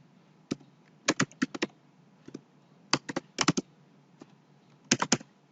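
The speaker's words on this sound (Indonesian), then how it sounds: "Saya tekan tab lagi ya untuk mengetik nomor suratnya." Keys clack on a computer keyboard while typing in a word processor, in short bursts of several quick strokes separated by brief pauses, close and clear with no talking.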